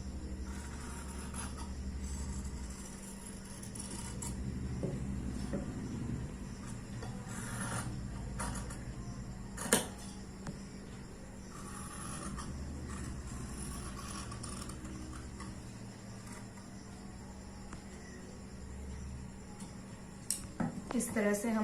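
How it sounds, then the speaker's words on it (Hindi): Scissors cut through fabric to shape a suit neckline, with repeated crisp snips and rubbing of cloth against the blades, irregular and close by, under faint background voices. "तो हम इसकी कटिंग करते हैं।"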